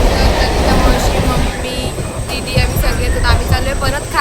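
Steady rumble of a moving train fills the clip, loud and continuous, with people talking over the noise.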